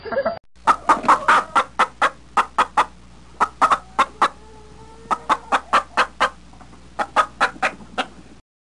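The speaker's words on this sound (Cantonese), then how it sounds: "左邊就係雞隻養殖場" Chickens at a school's small meat-chicken farm cluck in quick, repeated bursts, close and loud, with short gaps between clusters of calls and no talking.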